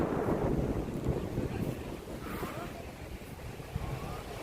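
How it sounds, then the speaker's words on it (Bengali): Cold wind gusting outdoors, rumbling and buffeting against the microphone in a continuous, fairly loud roar with uneven surges. "এত ঠান্ডা হাওয়া।"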